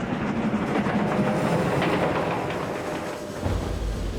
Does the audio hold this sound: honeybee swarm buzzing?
no